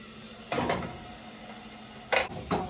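A beef steak sizzles in a frying pan in two or three short, close bursts of hissing and scraping over a quiet background hiss.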